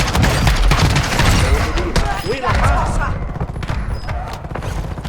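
Rapid bursts of automatic gunfire and heavy thumps fill a Call of Duty Warfare 2 firefight, loud and dense throughout, with a player talking excitedly over the shooting.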